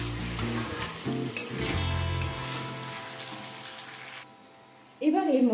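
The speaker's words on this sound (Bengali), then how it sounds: "3 মিনিট হাই ফ্লেমে কষিয়ে নেবার পর গ্যাসের ফ্লেমটা লো টু মিডিয়ামে রেখে চাপা দিয়ে এটাকে আরও 3 থেকে 4 মিনিট কষিয়ে নেব" Chicken masala being sautéed in a pan on the stove for Bengali aampora chicken, giving off a steady sizzle with stirring scrapes through the first seconds. A quieter stretch follows, then a louder burst of frying and clatter near the end.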